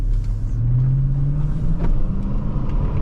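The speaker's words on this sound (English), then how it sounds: "hear that Hemi purring in the background" A 2005 Chrysler 300C with a 5.7L Hemi V8 idles and hums steadily from inside the cabin with the windows open, a low, even engine drone that swells slightly partway through, with no one speaking.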